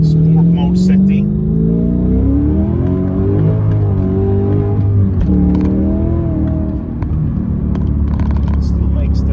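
Porsche Panamera S with a V8 exhaust and manual gearbox, on winter tarmac, revving and rumbling loudly and steadily across the whole span, with pitch rising and falling as the engine works.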